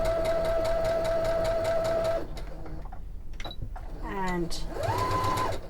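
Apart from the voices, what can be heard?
sewing machine stitching backwards and forwards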